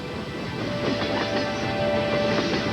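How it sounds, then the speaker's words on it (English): A train rolls past at a railway crossing, a loud steady rumble with rattling wagons and a thin sustained metallic squeal running through it. "You may not see it, but the train is there"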